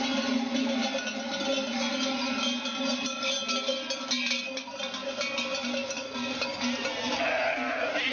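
A flock of sheep arrives during a transhumance drive, with many overlapping bleats and clanking cowbells forming a steady, fairly close din.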